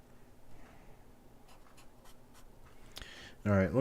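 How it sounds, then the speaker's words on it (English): A pen scratches out short strokes on a small sticky note, soft and close, in a quiet room, before a voice breaks in at the end. "This is trying to write all this stuff on a sticky note."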